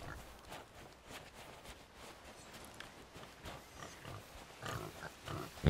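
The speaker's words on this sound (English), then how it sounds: "All right, so far a lot of pigs." Pigs grunt and oink faintly in the pirate video game Sea of Thieves, scattered low snorts over a noisy outdoor ambience with footstep-like thuds, getting a little louder toward the end.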